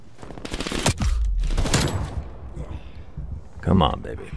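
Rapid automatic gunfire from Call of Duty Cold War, in a hardcore team deathmatch on PS5, crackles in bursts, with a loud cluster near the start and another late. Someone talks over much of it.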